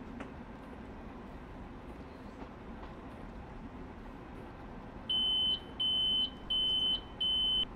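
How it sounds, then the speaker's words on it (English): A faint low hum of a Long Island Rail Road train cab gives way to four loud, evenly spaced electronic beeps from the cab signal marking a speed limit change. "Notice we got a beep for the speed limit."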